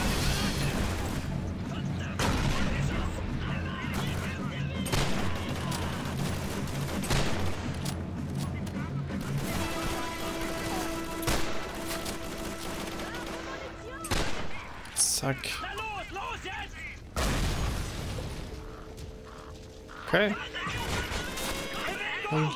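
Shotgun blasts during a firefight in a wine cellar in Call of Duty 3, a series of loud booming shots spaced across the scene amid other gunfire, with someone talking in German between them.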